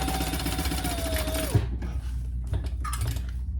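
A sewing machine bastes down the sides of a wallet, stitching in a loud, rapid whir for about a second and a half before stopping, followed by a few quiet knocks and clicks.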